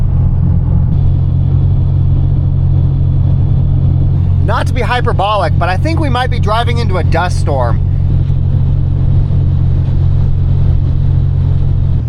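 A rebuilt car cruises at over 60 mph on an open road, its steady engine drone and tyre rumble running throughout as a voice speaks briefly over it.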